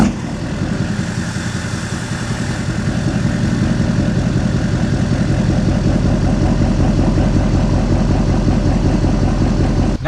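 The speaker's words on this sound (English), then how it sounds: "now it's time to fire up the Duramax, let it warm up, check for leaks" A Duramax diesel engine idles steadily after starting up to warm, a loud close rumble with an even, pulsing rhythm that holds throughout.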